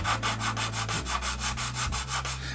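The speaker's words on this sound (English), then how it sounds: "I'm using my coarsest sanding stick I have." A coarse sanding stick rubs back and forth over a plastic part of a U.S.S. Reliant model kit, giving quick, even, raspy strokes about five per second, close and steady over a low background hum.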